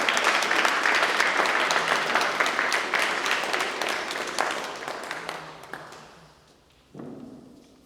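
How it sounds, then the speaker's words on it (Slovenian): Audience applause at a Kočevje folk song concert featuring a folklore group, loud sustained clapping that fades over several seconds before a brief renewed burst near the end. "Velik aplavz, spoštovane in cenjeni"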